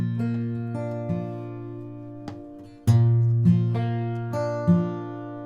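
Fingerstyle acoustic guitar plays the last measure of a folk-blues tune on an open G shape with the open second string: several plucked chords and bass notes ring out clearly, close up, with nothing else heard.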